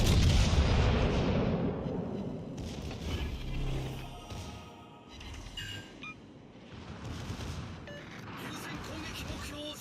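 Battleship secondary guns fire in the naval combat game World of Warships: rapid booms and thuds overlap amid dense, loud battle noise and occasional beeps, continuing throughout.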